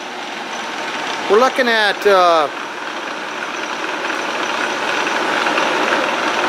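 A Monarch long bed lathe with 30.5-inch swing and 216-inch centers runs steadily while cutting threads, giving a constant mechanical hum; someone speaks briefly over it early on.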